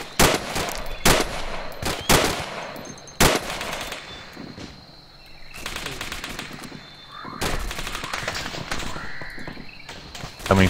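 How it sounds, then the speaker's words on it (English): Sustained, heavy gunfire from many weapons at once during a military operation, with dense bursts and volleys of rapid shots overlapping continuously and swelling again in loud waves. "You can open fire now fully. Fully open fire."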